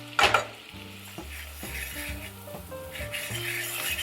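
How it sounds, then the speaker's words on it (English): Flour whisked in a hot pan for a white lasagna sauce, close scraping and light metallic clinks over a soft sizzle, starting with a sharp knock. "just whisking that to make sure all my flour's incorporated."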